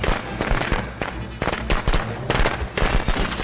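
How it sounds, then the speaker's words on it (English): Fireworks burst in a Friday the 13th video game, a rapid string of loud, sharp cracks and pops, some clustered in quick volleys with brief gaps between, close and dominating with no talk. "Fireworks are for you,"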